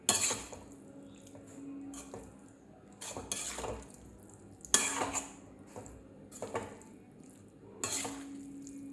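Breadfruit upma being stirred and mixed in a pan, quiet with a soft scraping rustle and several distinct metallic clinks of the spoon against the pan at irregular intervals.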